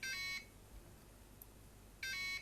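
Two short bursts of electronic beeping, alone and steady, from a FlySky FS-i6 radio-control transmitter sounding its low-voltage alarm, separated by a quiet gap.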